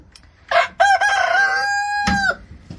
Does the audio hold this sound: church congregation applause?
no